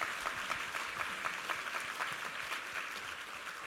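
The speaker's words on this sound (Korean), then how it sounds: "우리 하나님께 감사와 영광의 박수 올려드리겠습니다." Congregation applause at a Korean New Year's Eve church service, a steady crowd of hands clapping with faint rhythmic pulses, moderately loud and continuous throughout with no voices on top.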